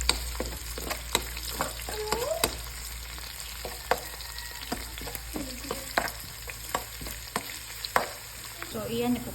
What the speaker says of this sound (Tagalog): Saute muna natin hanggang sa kulay golden brown na siya.